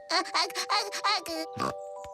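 Cartoon baby piglet oinking in short squeaky bursts, mixed in with a child-like cartoon voice speaking, with a small jingle near the end.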